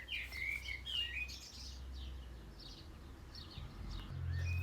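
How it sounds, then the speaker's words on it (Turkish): Several small birds chirp and tweet in short repeated bursts at a moderate distance over a steady low background hum, with no voices. "Bu da arkadaki cıvıldaşan kuşlara gelsin."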